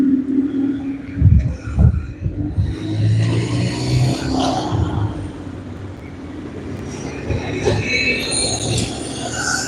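Bus YX190TR pulling away from a stop in Falkirk, with a loud low engine rumble and clunks near the start, then a fading drive-off under higher whining and squealing tones from surrounding traffic.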